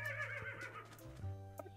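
A horse neighing in a video game, a short whinny that rises and falls over about a second, fairly close and clear, followed by faint hoof-like thumps.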